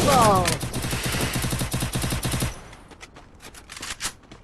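Video game gunfire crackles in rapid automatic bursts for a couple of seconds, then scattered single shots follow more faintly, with a voice briefly audible at the start.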